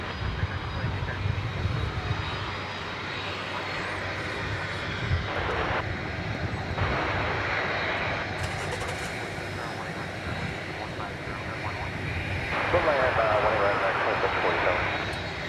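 An Airbus A321 arrives from Denver at Dallas Fort Worth Airport, a steady distant jet engine rumble that grows slightly louder toward the end, with a person talking over it.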